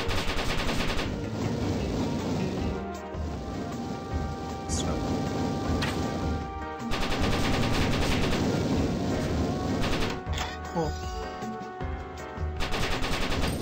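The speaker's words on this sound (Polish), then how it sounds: "Jak strzeli, to ja strzelam" Rapid machine-gun bursts and gunshots from the Cactus McCoy 2 video game, with dense, continuous fire and brief pauses over about fourteen seconds, loud and busy without speech.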